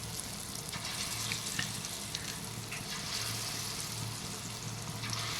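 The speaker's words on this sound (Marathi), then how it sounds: "तर आता हे तवा ठेवलेला आहे. आणि तव्यावरती तेल टाकलेलं आहे." Chicken fries in oil on a hot tawa, giving a steady close crackling sizzle with a low hum running underneath and no voices.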